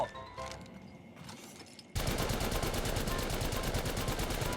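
Rapid automatic gunfire in Apex Legends Mobile, a dense, loud, evenly spaced burst that starts abruptly after quieter game sounds and keeps firing continuously to the end.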